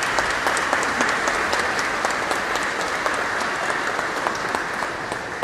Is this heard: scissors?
no